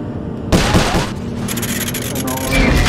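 Gunshots hit targets in the Sly Cooper video game, a sudden burst of rapid shots and impacts followed by a rattling volley, with a voice speaking over the game noise.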